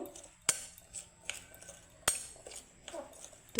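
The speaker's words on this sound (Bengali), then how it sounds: "এখন আমি খুব সুন্দর করে মিক্স করে নেব" Potato peels being mixed with chopped green chillies in a bowl, heard as faint scraping and a few sharp clinks of a utensil against the bowl at irregular intervals, alone and quiet.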